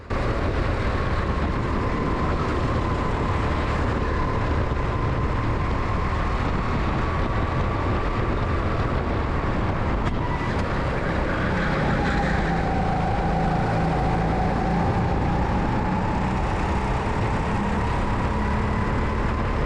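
A racing kart engine droning continuously during a race at the Ampfing kart track, loud and close, with a steady whine that dips and rises as the kart slows and accelerates.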